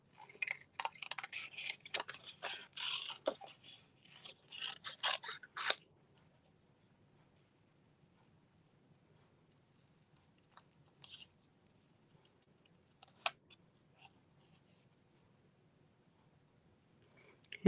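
Scissors fussy cutting a paper pig die cut, a quick run of close crisp snips over about six seconds, then near silence broken by a few isolated snips.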